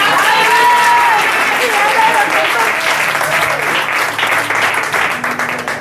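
A church congregation applauding to acclaim the Lord at a prophetic gathering in Nantes, loud sustained clapping and crowd noise over music with sustained tones, continuing steadily throughout.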